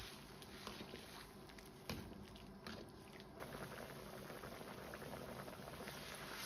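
Meat slices simmer in a pot of soup as a soft, steady bubbling hiss, with a few clinks and knocks near the start, fairly quiet and close.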